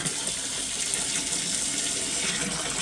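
A basement sump pump runs steadily in its pit, water gushing and churning in a continuous close rush with no breaks.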